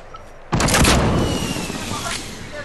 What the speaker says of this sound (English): Oh, they're just throwing grenades now